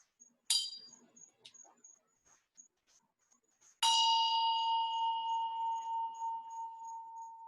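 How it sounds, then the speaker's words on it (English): A meditation bell rings during Guru Yoga practice, first a short struck tone and then a clear, sustained ring that decays slowly and sits alone in a quiet room. "Follow the sound of the bell."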